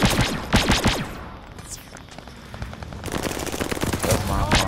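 Automatic fire in Call of Duty: Vanguard on the Hotel Royal map, sharp rapid bursts of gunshots at the start, a short lull, then a long sustained stream of shots, close and loud.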